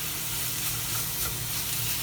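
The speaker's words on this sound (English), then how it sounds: "So we'll just fry this bacon for a little bit, and then we can add the cream." Bacon sizzles and spits in a pan on a van stove, a soft, steady frying hiss that continues without a break.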